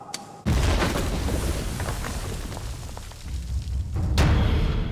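Demolition detonation using precisely controlled blasting to limit vibration speed: after a brief quiet moment, a sudden loud boom erupts into a sustained rumbling roar of collapse that lasts several seconds, with a second sharp burst near the end.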